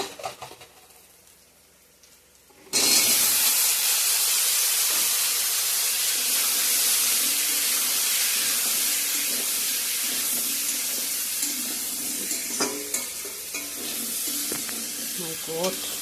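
Vegetables hit a hot pan with a sudden loud sizzle that keeps hissing steadily, with faint stirring clinks near the end, after a quiet moment at the start.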